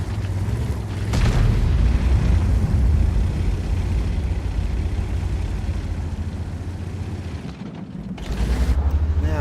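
A tank gun in a video game fires a shot through the side of a vehicle: one heavy boom early on over a steady engine rumble, with a second loud blast near the end.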